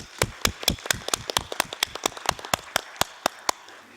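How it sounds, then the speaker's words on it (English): Audience at a plenary session of the 75th Commission claps for conference panelists, a sparse, irregular patter of distinct nearby hand claps thinning out toward the end, with no talk. "invite all of you to join me in thanking and giving a very big round of applause to all our panelists"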